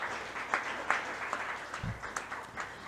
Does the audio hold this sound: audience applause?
yes